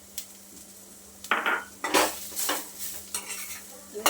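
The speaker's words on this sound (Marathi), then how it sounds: "त्याच्यामध्येच आता आपण हे भाजलेलं खोबरं परतून घेणार आहोत" Roasted coconut and onions sizzle in a pan while being stirred for Kolhapuri misal, with a quiet frying hiss broken by irregular scraping spoon strokes against the metal.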